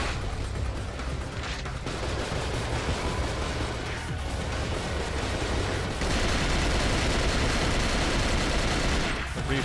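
Gunfire from a recoil-heavy gun in the video game Cold Fear, a dense continuous barrage of loud shots rolling on for several seconds and swelling louder toward the end, with no talking.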